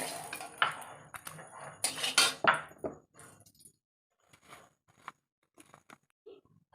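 Fried eggs are lifted out of a pan with a utensil, giving a run of close metallic scrapes and clinks that thin out into sparse, quieter taps.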